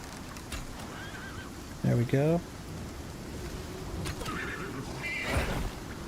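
A horse neighs in the Icarus survival video game, one short, loud, descending whinny rising briefly above steady rain-like ambience, with a voice talking.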